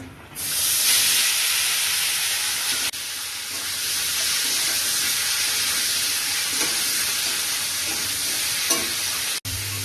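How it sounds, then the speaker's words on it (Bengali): A whole cauliflower fries with bay leaves in a pan, giving a loud, steady sizzle and hiss that starts abruptly and carries on evenly, broken by a few brief stirring knocks. "গোটা ফুলকপিটা ভিজে নেব"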